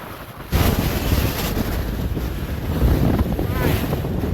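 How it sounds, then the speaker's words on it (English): Strong coastal wind buffets the microphone in a continuous roar, gusting louder at times, with a broad rushing noise and no voices, on a clifftop walk between Tintagel and Boscastle, Cornwall. "You can almost lean into the wind,"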